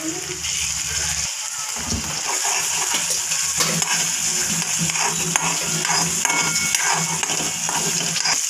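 Ginger garlic paste hits onions frying in oil in a pan for a cauliflower and peas sabji, giving a steady bright sizzle with stirring scrapes throughout, close and fairly loud, no one speaking.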